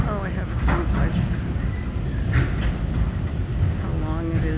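A long southbound freight train hauling autoracks rolls past near Eagleville, a continuous low rumble of cars with faint clanking, while a person talks over it.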